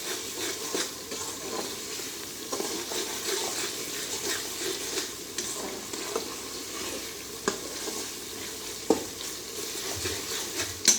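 Chicken korma masala loaded with green chillies fries over high heat, a continuous close sizzle punctuated by repeated scraping stirs of a spoon against the pot.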